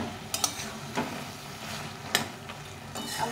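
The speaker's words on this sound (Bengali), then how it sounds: "আবার নেড়ে দিচ্ছি।" A spoon stirs a cauliflower and mixed vegetable curry, sweetened with a little sugar, in a pan: a handful of distinct scrapes and knocks against the metal over a soft, steady sizzle, close and fairly quiet.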